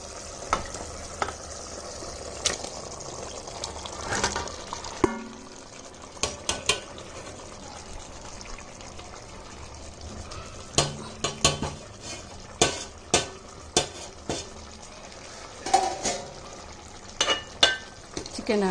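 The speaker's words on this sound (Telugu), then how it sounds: "చికెన్ యాడ్ చేసుకొని గ్రేవీలో కలిసిపోయేలాగా మొత్తం కలిపేసుకోవాలి." Chicken stirred into a spicy curry gravy in a pan, with a spoon scraping and knocking against the metal in irregular clicks over a steady low sizzle, busier toward the end.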